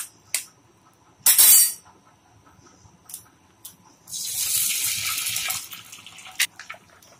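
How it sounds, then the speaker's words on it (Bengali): Two eggs cracked into hot mustard oil give a sharp crackle, then a loud, steady broadband sizzle for a second or two, with a few brief pops and spits before and after. "ডিম দুটো তেলের মধ্যে ফাটিয়ে দিয়ে দিয়েছি"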